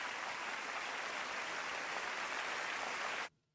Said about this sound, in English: that clapping is just ringing in his head